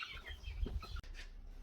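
Two-month-old Birkivska Barvysta chickens clucking close by, a few short throaty calls with some chirpy notes over faint background noise.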